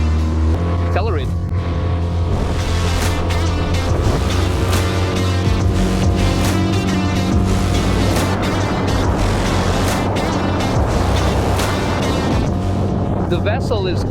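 Tohatsu 8hp outboard motor pushing a boat up to speed, a loud steady engine drone with dense harmonic whine that holds throughout, water rush underneath, and no talk.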